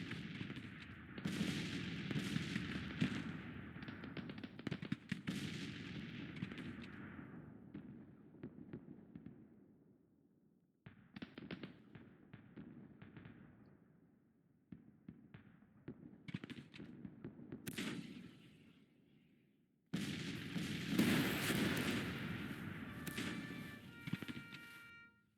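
Gunfire and artillery from a Grand Tactician Civil War battle crackle in dense volleys of rifle shots and booming cannon. The bursts come in several waves separated by short gaps, loud and distant-sounding, with no one talking over them.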